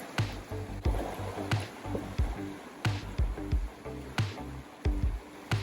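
Cold water from the Hoh River stream being scooped up by hand into a container, with a run of close splashes, sloshes and gurgles repeating every second or so over a steady flowing-water background.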